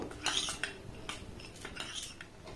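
Dry fruits and tutti frutti stirred into flour in a bowl, heard as a few quiet clinks and scrapes of a utensil against the dish, close but faint, with no talk.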